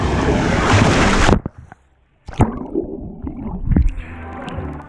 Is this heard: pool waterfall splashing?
yes